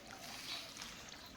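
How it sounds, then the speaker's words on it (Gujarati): Water gushing steadily from a valve opened at a home tap, a continuous broad splashing rush that stays loud and even throughout, with no voices. "પાણી આવે છે એક જ ધારું, અમારે પાણી ખૂટે નહીં."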